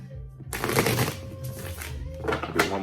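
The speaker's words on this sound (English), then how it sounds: "Do one more shuffle" Tarot cards riffle-shuffled close by in two quick bursts, a crisp papery fluttering with a brief pause between them.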